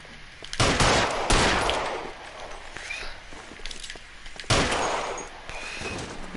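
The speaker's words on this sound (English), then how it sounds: "Just trying to scare him with shots" Gunshots in the video game L.A. Noire fired as warning shots, three loud booming reports spaced irregularly, each trailing off into echo, with quieter activity between.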